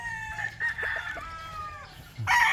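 Boston Black chickens cluck and a rooster crows nearby, a few short calls followed by a louder crow at the end, over quiet background.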